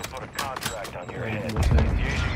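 Video game gunfire crackles in scattered close and distant bursts while someone talks over it, building toward a heavier rumble near the end.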